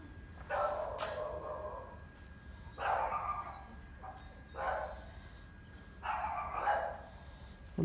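An American Bully dog lets out four separate loud bark bursts, spaced about two seconds apart, close by against a quiet background.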